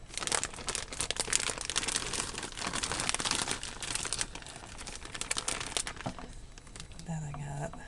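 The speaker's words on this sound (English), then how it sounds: "I'm going to add a bag of" Frozen broccoli from a plastic bag rustles and tumbles into a leftover Christmas ham casserole, a steady loud crinkling of plastic lasting several seconds, with a quieter pause and light kitchen sounds near the end.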